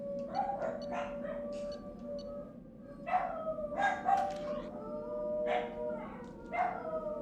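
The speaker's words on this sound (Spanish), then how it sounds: "Perdón por los perros, ahorita van a escucharlos ladrar mucho." Several dogs howl in long, wavering wails mixed with short barks and yips, rising and falling in overlapping bursts at moderate distance over a steady background hum.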